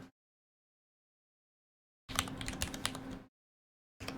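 Computer keyboard typing comes in two short bursts of rapid, close key clicks separated by near silence, with no voices.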